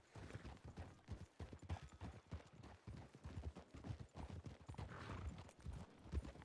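Horse hooves clip-clop in a steady rhythmic gait during a video game ride, close and fairly quiet, with a brief neigh and no talking.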